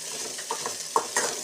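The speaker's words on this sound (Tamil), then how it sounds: "இந்த பாதி வெங்காயத்தை பொன்னிறமாக வதக்கணும்" Halved onions sautéing in a pan for a mango chambaa dish, giving a soft continuous sizzle with light stirring scrapes and a few brief utensil clinks, close and moderately quiet, no talk.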